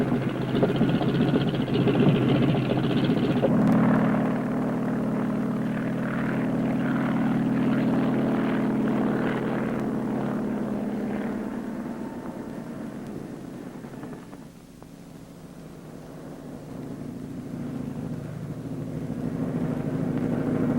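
A Marine helicopter flies steadily with a loud, continuous engine and rotor drone, which eases and dips midway before swelling again toward the end.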